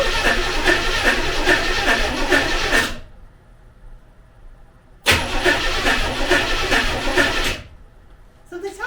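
A Corvette with a DIY dual exhaust cranks over in two long loud bursts of starter churning, each running a few seconds, with a near-silent gap between them and no clear catch.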